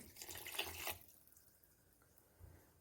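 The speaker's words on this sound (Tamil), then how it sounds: "இப்போ இதோட ஒரு பெரிய கிளாஸ் அளவு தண்ணி ஊற்றிக்கலாம்" A short burst of water splashing and pouring into a pan of ghee for about a second, then quiet with faint drips and a small soft thud near the end.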